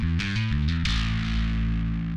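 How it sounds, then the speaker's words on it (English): A bass guitar runs through a Darkglass distortion pedal with a clean blend, a few crunchy picked notes followed by a long, gritty sustained note, loud and close. "I like having a blend for distortion because you lose a lot of the bottom end when you start playing really, really crunchy"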